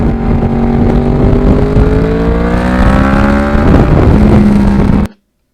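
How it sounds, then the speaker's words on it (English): Yamaha R1 crossplane motorcycle engine, heard on board while riding, howls loud and close through rising and falling revs with gear changes before the sound cuts off abruptly. "the sound of this bike on board is just phenomenal"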